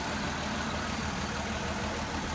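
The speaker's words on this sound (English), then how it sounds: "Car's now running." A flathead Chrysler car engine, jacked up with its valve covers off, idles steadily with a dense, even low-pitched drone that stays constant throughout, with no voices.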